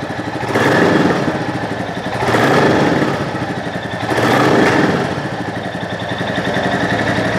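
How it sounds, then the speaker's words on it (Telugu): A 2025 Royal Enfield Bullet 350 motorcycle revved three times from idle, each throttle blip swelling into a louder exhaust roar before dropping back to a steady close thump. "సో ఇదైతే బుల్లెట్ 350 యొక్క ఎగ్జాస్ట్ నోట్."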